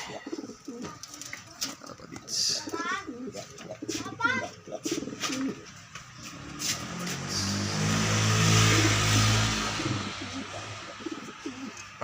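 Pigeons coo repeatedly at close range, soft rolling calls layered with other birds chirping, a passing car swelling in the background and a voice speaking briefly.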